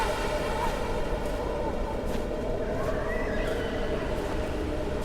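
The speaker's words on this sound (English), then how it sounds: "I just heard a horse" A horse neighs in the snowy mountain woods of the video game White Silence, a drawn-out whinny sounding over a steady bed of wind and ambient noise, fairly distant and unaccompanied by talk.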